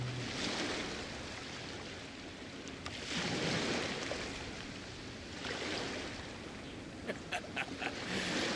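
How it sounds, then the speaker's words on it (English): Ocean waves in Genshin Impact come as soft, rolling surges of surf that swell and recede in a slow rhythm. A few light clicks are heard near the end. "The sound of the ocean waves."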